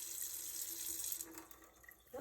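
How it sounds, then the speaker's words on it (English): Cold water runs steadily from a kitchen faucet fitted with a ProOne FS10 water filter, a bright continuous splashing hiss close by that thins out and eases near the end. "Now that's just cold water coming out of the faucet."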